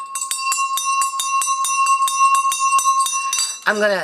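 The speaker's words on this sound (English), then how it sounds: "Look at this beautiful bell I found." A small silver bell rings in a quick, regular series of bright, clear strikes close by, followed by a brief voice at the end.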